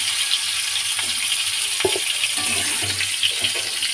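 Bitter gourd frying in hot oil in a home kitchen, a steady soft sizzle with faint stirring clinks and a brief scrape partway through, no talking.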